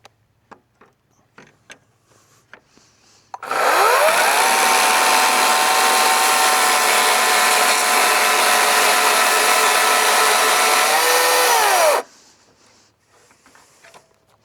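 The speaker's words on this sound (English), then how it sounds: "I'm going to roll everything over and notch the bottom side of my log." A chainsaw fitted with a dovetail jig cuts a notch into the underside of a log, roaring loud and steady for about eight seconds between quieter clicks and taps before and after.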